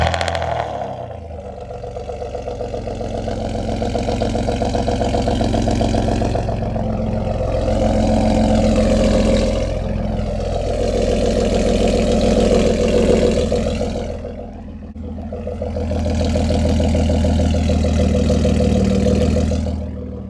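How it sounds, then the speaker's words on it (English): A remote-started car with a catless exhaust, after upstream O2 sensor removal, idling steadily and loudly up close, with a low rumble that swells and settles a few times over about twenty seconds. "Now let's get this thing remote started."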